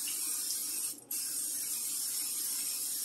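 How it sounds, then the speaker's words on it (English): A steady aerosol spray from a butter spray can onto a pan hisses continuously, briefly pausing for a moment before resuming, close and fairly loud. "Your favorite butter spray a couple times around."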